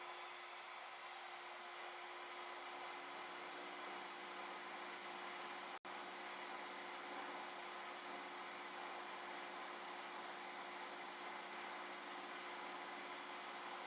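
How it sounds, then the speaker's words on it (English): A workshop vacuum cleaner that has lost some of its suction runs with a steady, even whine and hum. It stays at one level throughout, apart from a single sharp click near the middle. "my vacuum is not sucking as much as it should"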